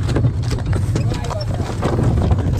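Hooves of a pair of strong mares clip-clop steadily under a dense wash of outdoor noise, while someone talks over them.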